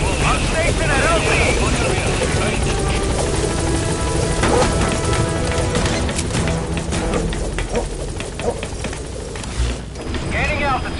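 Helicopter rotor noise from the B-Quad helicopter setting down at a landing zone in Metal Gear Solid V: The Phantom Pain, a loud, steady whir and thump that stays constant throughout, with crashes, gunfire bursts and radio voices over it.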